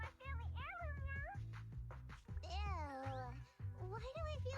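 Stylized meowing from a character in a Zenless Zone Zero game cutscene, several high, rising and falling mews mixed with voiced speech over a steady music bed, loud and close.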